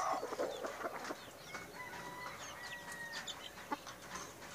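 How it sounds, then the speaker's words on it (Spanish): A rooster clucks and calls in a short series of faint, uneven vocalizations, with soft clucks and a brief louder note near the end against a quiet outdoor background. "Un gallo muy bonito."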